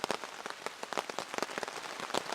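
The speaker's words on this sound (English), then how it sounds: "We've got a very, very light pitter-patter rain coming down." Light rain patters on a tarp over a campsite, a dense, steady crackle of close droplet taps with no voices.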